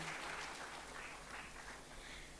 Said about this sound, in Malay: Kita berikan tepukan para hadirin sekalian.